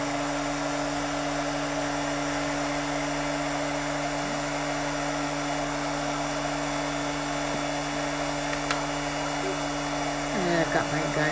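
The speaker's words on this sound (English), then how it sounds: "I'm just heating up my gun a little bit." A heat gun warms up while gel plate prints are made for card making, giving a steady, fairly loud blowing whir with a constant hum that runs unbroken throughout.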